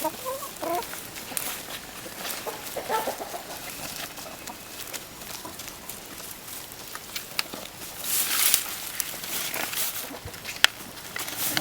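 Hens in a farm henhouse cluck and chatter in scattered bursts, fairly close, with rustling and a louder flurry of squawks toward the end; no talking over them.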